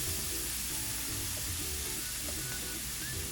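A ribeye steak sears in a hot pan with a steady, close hiss of sizzling and frying that runs unbroken throughout, with no talk over it.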